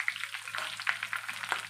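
Neem leaves fry in oil for a homemade herbal hair oil, giving a soft, crackly sizzle with several small pops over a brief moment, close and quiet.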